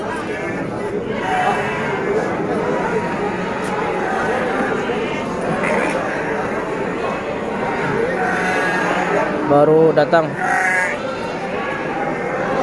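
Sheep bleat repeatedly amid the dense murmur of a crowded livestock market for sheep and goats in Tanjungsari, with people talking nearby throughout and a couple of louder close bleats toward the end.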